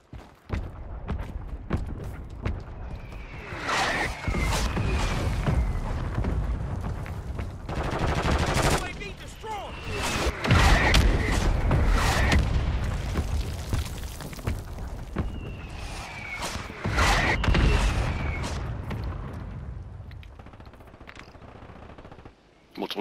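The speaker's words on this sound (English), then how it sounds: "mortar strike inbound." Mortar strike explosions in the video game Warzone on the Fortune's Keep map, heavy booms in several waves mixed with gunfire and players talking.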